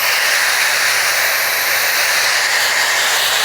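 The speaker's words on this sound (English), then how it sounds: "Again, the Shark is an excellent blow dryer. It's just kind of loud." A Shark hair dryer runs with a loud, steady airy hiss and whoosh, continuous and close, with no voices.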